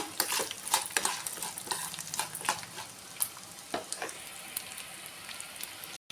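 Peanuts, coriander seeds, chana dal and urad dal fry in a pan with a dense, close crackling sizzle full of crisp pops that holds steady for several seconds before stopping abruptly.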